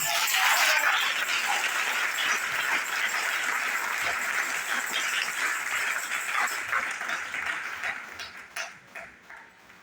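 A church congregation bursts into sustained applause, dense clapping that is loud at first and then thins into scattered claps toward the end, with no speech over it.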